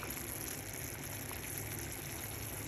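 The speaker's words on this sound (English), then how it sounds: "And now they start to boil it" Sugar wax syrup boiling in a pot on the stove, a steady, dense bubbling and hissing wash that holds at an even, moderate level throughout with no voices.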